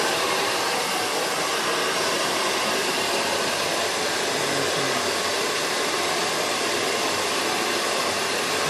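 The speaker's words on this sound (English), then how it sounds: "so your blow dryer on cold." A blow dryer on its cold setting blasts air steadily to dry hairspray during a barber's fade and beard trim, a loud, even whooshing roar held without a break from start to finish.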